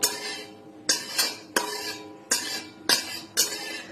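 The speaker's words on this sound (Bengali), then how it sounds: "এবার একটু খিচুড়া নাড়াচাড়া করে নিই।" Khichuri stirred in a cooking pot, a spoon scraping and clinking against the metal in six distinct strokes at a steady rhythm, close and fairly loud with short pauses between.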